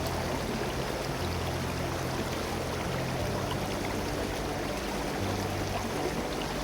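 A river flows in a steady, loud, continuous rush of water close by, alone with no voices.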